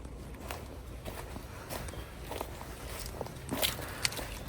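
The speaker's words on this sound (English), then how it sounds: "now, hear how quietly I'm going to walk" Soft, quiet footsteps tread slowly along a forest trail cleared of leaves, a few light crunches spaced apart over low outdoor background noise.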